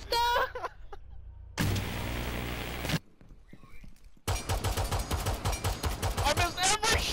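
Rapid gunshots in a Rainbow Six Siege match, close and loud, firing in a burst, a pause, then a longer stretch of fast repeated shots among other game sounds.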